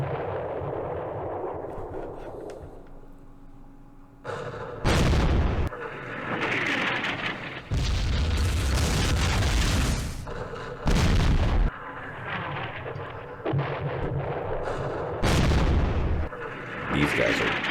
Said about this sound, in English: Here comes our artillery.